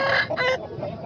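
An Aseel rooster at a bird market in Tando Adam gives a short, loud, close clucking call with a brief crowing quality.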